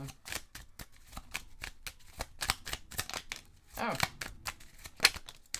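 Tarot cards shuffled and drawn during a French card-reading session, a rapid series of crisp riffling snaps and slides with a longer shuffle burst near the end, close and fairly quiet.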